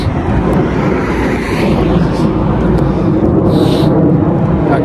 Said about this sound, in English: I can hear the plane.